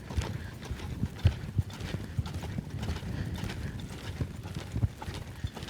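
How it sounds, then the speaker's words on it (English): A horse loping in circles during a riding lesson, its hooves striking in a steady, rolling three-beat rhythm on soft ground, close and clear throughout. "just riding that horse without the use of the rein at all"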